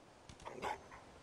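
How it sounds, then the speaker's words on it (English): A dog barks in Fallout 4, a couple of short barks and yips heard fairly close but moderately quiet, standing alone with no talk. "Greet the dog. There's a dog."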